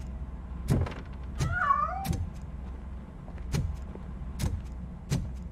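A cat meows in short, rising cries from the RoboCop video game, a couple of clear calls set among sharp, evenly spaced clicks and a low steady background hum.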